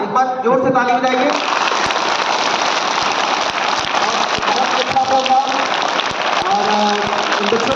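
A school audience at a Mother's Day program claps loudly and steadily throughout, with the applause blending into a dense, rain-like wash. A voice or song is heard faintly at the start.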